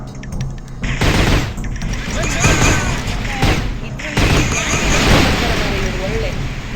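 Rapid bursts of gunfire in a shooting video game, loud and continuous with brief breaks between volleys, mixed with explosion-like booms and game effects.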